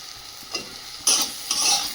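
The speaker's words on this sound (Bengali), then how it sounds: "এবার দিয়ে দেবো টমেটো কুচি।" Chopped tomato tipped into a hot pan of frying onion, ginger, garlic and green chilli paste, giving a sudden loud sizzle over the steady low crackle of frying, with stirring scrapes around it.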